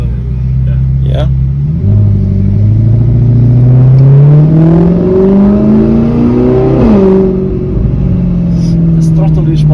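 A straight-piped, naturally aspirated Audi R8 revs up close and very loud, the engine note rising and falling through several sharp throttle blips and sustained pulls, with a faint voice in the background.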